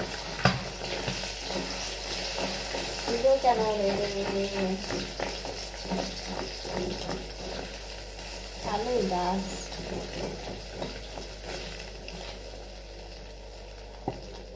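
Egg and spices cooking in a pan for noodles, a soft steady sizzle with occasional stirring scrapes, fairly quiet and continuous, while someone talks at moments.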